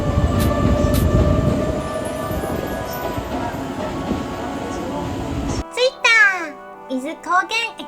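Rumbling, rattling cabin noise inside a moving train bound for Izu Kogen runs for several seconds, then cuts off abruptly to a quiet scene with short bursts of voices.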